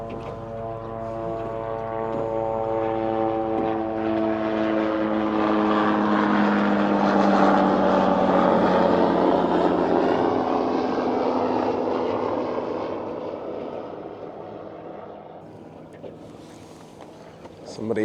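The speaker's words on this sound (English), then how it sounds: "Somebody flying their helicopter around trying to figure out where I'm fishing." A helicopter flies over a fishing spot on the water, its rotor drone swelling as it passes close overhead and then slowly receding, loud and steady throughout.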